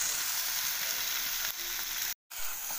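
Tomatoes with salt frying in a pan for prawn biryani, a dense, steady bright sizzle with a faint stir partway through, close and continuous apart from a momentary gap.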